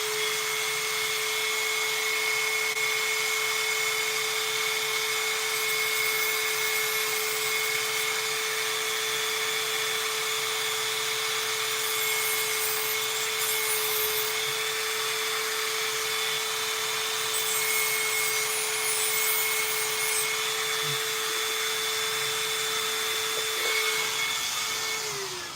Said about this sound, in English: I don't like to use the Dremel close to the battery because any little piece can cross this